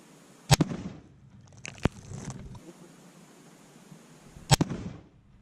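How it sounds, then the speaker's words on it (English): Rifle shots fired at a target while sighting in, a sharp close report followed by another roughly a second later and a third after a long pause, each with a short decaying echo. "I'll shoot 3 shots at this one just to see what kind of group I can get at it"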